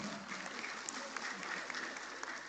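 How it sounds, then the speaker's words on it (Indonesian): Steady applause from a crowd at a formal Sundanese community gathering of the Paguyuban Pasundan, a dense even patter of many hands sustained throughout at moderate distance. "Tepuk tangan."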